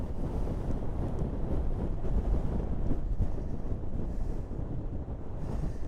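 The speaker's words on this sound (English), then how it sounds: "I'm getting a lot of strong wind warnings here" Strong storm wind buffets an outdoor microphone on the Scottish coast, a loud, continuous low rumble with ragged gusty fluctuations filling the whole stretch, no voices present.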